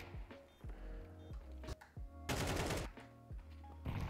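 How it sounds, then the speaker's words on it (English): Gunfire in Counter-Strike: a rapid series of sharp, close shots in short bursts, with a loud, dense spray of fire in the middle and more single cracks afterward, over faint game background sound. "you are shooting two people that are not looking at you"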